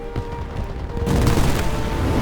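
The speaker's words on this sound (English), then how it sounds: "Oh yeah, I'm being shot at." Gunfire in War Thunder strikes a player's plane: a short rattling burst of shots and booms cuts in over the engine drone and grows louder toward the end.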